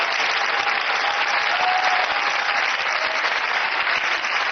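A studio audience on an Algerian talk show applauds, a steady, dense wash of clapping that holds at an even level from start to finish with no talk over it.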